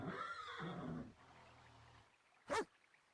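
A Dream Horse standing alone without saddle or rider in a virtual world game lets out one short, loud whinny near the end, after a stretch of quieter background sound.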